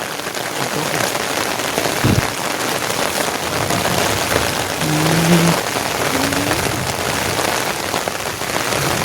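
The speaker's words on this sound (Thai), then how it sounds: "ฝนนี่คือตกบ่หยุดเลยเนาะ" Steady heavy rain pouring down, a dense continuous hiss of drops hitting surfaces, loud and close with no talking.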